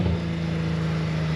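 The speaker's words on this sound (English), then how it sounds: "I'm not holding the throttle and it's revving itself up." Steady droning idle from an overheated trail vehicle engine on a winter trail, revving up on its own without throttle, a continuous low hum heard close and alone.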